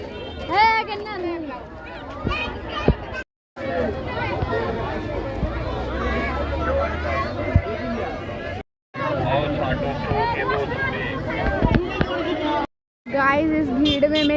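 Dense crowd chatter at a busy Chhath puja market, with many overlapping voices and children's calls, loud and close, broken by a few short silent cuts.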